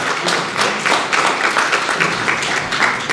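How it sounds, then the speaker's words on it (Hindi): An audience claps for the birthday of poet Ashok Chakradhar as he is honoured at a website launch event. The applause is a steady patter of many hands, fairly close and lively, lasting a few seconds. "तो एक बार जोर से ताली बजाकर इनका"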